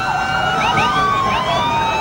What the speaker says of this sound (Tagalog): umalingaw-ngaw ang sirena ng bumbero sa Divisoria dakong 1:40 ng hapon